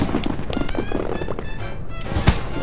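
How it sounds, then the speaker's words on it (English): Fireworks in the video game Final Fantasy XIV, a run of sharp pops and crackles scattered over steady game ambience, with one stronger burst near the end, at moderate distance and no talking. "I want to see the fireworks."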